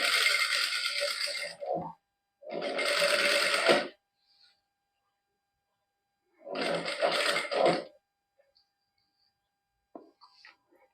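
A sewing machine stitches lace onto fabric in three sustained bursts of motor whir, each roughly one to two seconds long, separated by silent pauses with a few faint clicks near the end.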